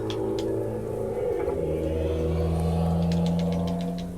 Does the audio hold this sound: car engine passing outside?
yes